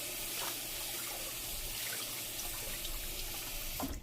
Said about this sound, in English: Let's go ahead and get some water on the sponge.